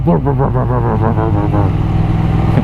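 A voice imitates a motorcycle exhaust popping in second gear when the throttle closes around 4,000 rpm, rapid sputtering pops and burbles delivered close and loud.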